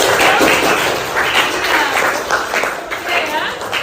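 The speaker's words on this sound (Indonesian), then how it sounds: "Oke, kasih aplaus dulu untuk" An audience breaks into steady applause after a reflection at a teacher mentoring session, dense clapping from a room of people, close and sustained throughout.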